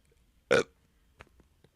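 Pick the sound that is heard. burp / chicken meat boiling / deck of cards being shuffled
burp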